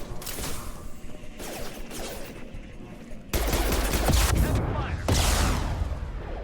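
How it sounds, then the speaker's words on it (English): Shotgun blasts in the video game Mass Effect ring out in a rapid volley, several sharp, loud bursts with rattling mechanical clatter between them, growing heavier in the second half, with a voice speaking briefly among the shots. "Shotgun!"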